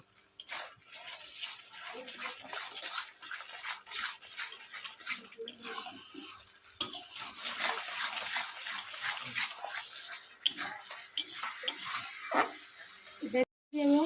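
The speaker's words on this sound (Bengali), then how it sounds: "এবার ভালো করে মশলাটা কষিয়ে নেব" Spice paste with sugar is fried and stirred in a pan for a matar paneer curry, giving a steady close crackling sizzle broken by scraping stirs and brief pauses.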